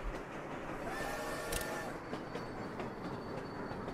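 A train in the city-building game Sweet Transit rumbles past with a steady rolling noise, a faint clickety-clack of wheels and a brief squeal, continuous and moderately loud with no talk.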